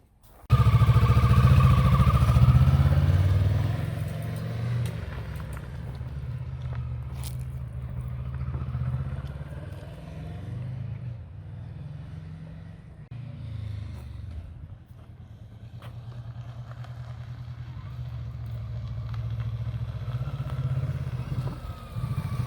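A Kawasaki Vulcan S650 motorcycle on a test ride, its engine rumbling loudly at first and then settling into a steady, lower drone with slight rises and falls throughout.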